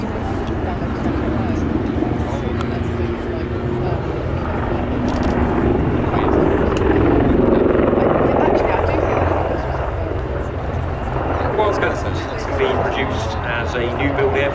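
A Wildcat helicopter flies a display at RIAT 2024, its steady rotor and engine drone rising and falling in loudness at moderate distance beneath continuous commentary.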